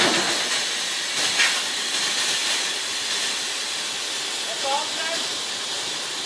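A steady broad hiss of air from a farm vehicle's brake being released, continuous and fairly loud, with faint voices and outdoor noise in the background.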